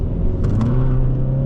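A Hyundai Sonata N-Line engine accelerates hard in a 2026 test drive, heard from inside the cabin as a loud, steady rising engine drone and rumble with brief higher mechanical whirs partway through.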